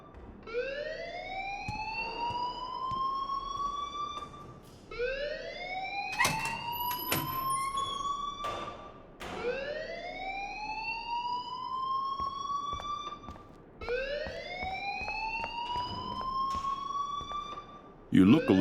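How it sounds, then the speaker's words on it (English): Electronic alarm from the video game Life is Strange sounds in four rising, wailing sweeps with strong harmonics, each lasting several seconds with short gaps between, loud and close, with faint voices and scattered clicks around it. "please turn off that alarm since that's your job"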